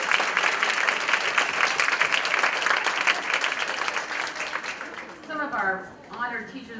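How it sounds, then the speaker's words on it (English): Honored teachers of the year get a sustained round of applause from the audience at a school board meeting, dense steady clapping that fades out near the end as a voice begins speaking. "let's give them one more big round of applause"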